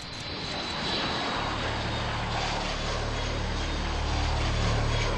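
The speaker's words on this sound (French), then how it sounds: "un avion d'assaut décolle équipé de winglets" A Falcon 7X jet fitted with winglets takes off on a test flight, its engines a loud, steady roar that swells slightly as it climbs, with a low droning hum underneath and no voices.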